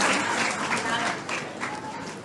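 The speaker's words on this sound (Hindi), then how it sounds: "तालियां।" Applause from the audience at a Brahma Kumaris Diwali celebration gathering in Ambala Cantt, dense steady clapping filling the room throughout, fairly close and loud, with some crowd noise mixed in.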